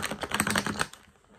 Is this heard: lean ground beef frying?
no